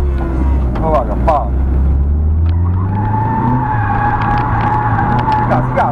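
A car drifts around a figure-eight course at a drift school, its engine loud and close, revving and rising in pitch with tyre noise, while someone talks over it.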